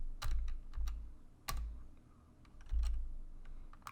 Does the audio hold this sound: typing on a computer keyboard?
yes